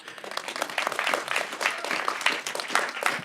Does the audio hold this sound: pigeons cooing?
no